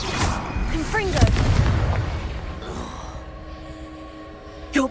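A Confringo fire spell blast in the Hogwarts Legacy video game: a booming burst with a rumbling tail that fades, then a sharp sound near the end.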